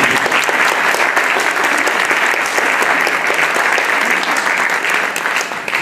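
Loud, sustained applause from a crowd at a New Year's wishes reception, a thick continuous wash of clapping with no voices on top.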